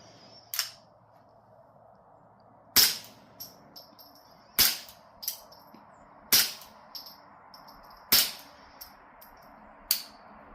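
Subsonic .22 rimfire rounds fired through a B&T Tiger 22 suppressor, six sharp, muted cracks spaced roughly two seconds apart with quiet gaps between, no talk.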